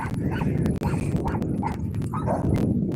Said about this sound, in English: He barks at me, but he wags his tail